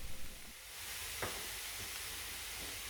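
Mushrooms with salt, pepper and rosemary softening in a pan give a steady, fairly faint sizzle, with a single scrape of stirring near the middle and a couple of softer touches later.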